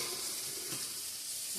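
Potatoes frying in oil for a meat curry give a steady, faint, even sizzle and hiss throughout, with no pauses.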